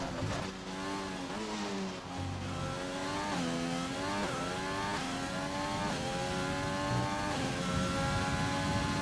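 An F1 car on a flying lap in a racing video game at the Round 1 France event, its engine revving high and continuous, with repeated pitch sweeps as it shifts up and down through the gears.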